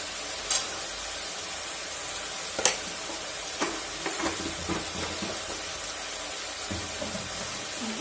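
Tomatoes, sugar and spices sizzle and fry in a pan, a steady crackling hiss with occasional sharp clicks and stirring scrapes, close and moderately loud, with no talking.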